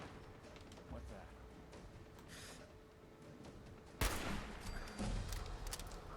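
Gunfire in Fallout 4 during a fight with a mutant hound: a sudden loud burst of shots partway through, with a few more reports after it, over steady game background and a talking voice.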